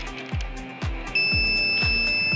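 Electronic beep from a MultiPRO pre-programmed tool signalling its cycle is done, a steady high tone that starts partway in and holds over repeated low thumps.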